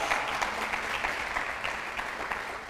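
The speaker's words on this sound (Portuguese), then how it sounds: "Dá um aplauso ao Senhor." A church congregation applauds in praise during a service, a continuous, moderately faint roar of many hands clapping together, steady throughout with no voices standing out.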